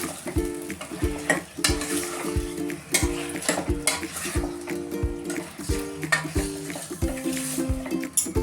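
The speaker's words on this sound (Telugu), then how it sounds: "చికెన్ వేసి బాగా కలపాలి." Chicken stirs and sizzles in a frying pan for green chicken bagara rice, with a spoon scraping the pan in a steady rhythm and tonal clinks over the constant frying hiss.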